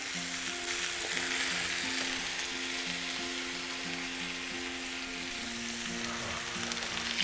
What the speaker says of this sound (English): you wanna cook it on a medium heat because you want it to cook all the way through